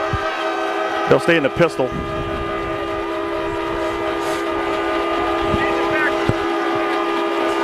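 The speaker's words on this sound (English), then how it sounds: "we do have 2 parents that have the train horn. They're blowing them now." Train horns blown by parents in the stands at a high school football game, sustained loud blasts held steady across the whole stretch, with a crowd-announcer voice talking over them near the start.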